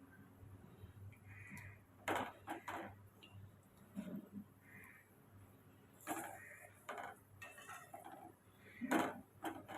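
Intermittent clinks and scrapes of a utensil stirring fish curry in a pot, coming in short bursts with quiet gaps, close and moderately loud.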